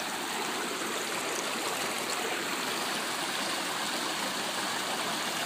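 Creek water at high-water season rushes steadily, a dense broadband roar with no breaks. Nobody speaks.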